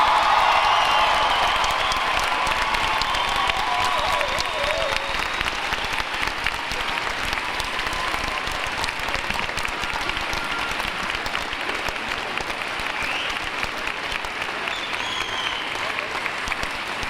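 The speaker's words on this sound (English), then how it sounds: "acknowledge your families, friends, and faculty with a round of applause for all of their support and encouragement" A graduation ceremony audience at a 2017 university commencement gives families, friends and faculty a long, steady round of applause, dense clapping with scattered cheers and whoops filling the hall at full volume throughout.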